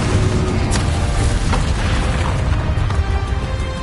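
Spell blasts in the wizarding game Hogwarts Legacy, a continuous rumbling barrage of booming explosions and bursts, loud and dense with sharper pops scattered through.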